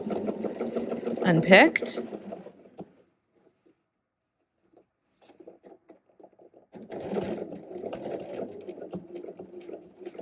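A sewing machine stitches through a ready-to-wear waistband being altered, running in bursts with a quiet gap between them. Someone speaks briefly at the start.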